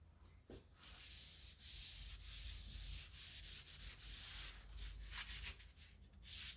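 Cloth rubbing and wiping over the roof panel of a 1967 Valiant ahead of vinyl wrapping, a steady close scrubbing swish with brief pauses between strokes, alone without talk.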